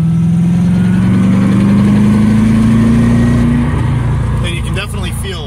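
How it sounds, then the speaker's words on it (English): A 1993 Corvette driven under throttle with a grinding rear passenger-side wheel hub, a loud engine tone rising slowly in pitch over a rough grinding rumble, then easing off near the end. "when I'm on the throttle, I hear a grinding noise coming from the rear passenger side"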